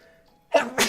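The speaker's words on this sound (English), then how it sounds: "I need to sneeze" One person sneezes close to the microphone after a quiet moment of faint game music, a sharp two-part burst, the first catch followed by a louder explosive release.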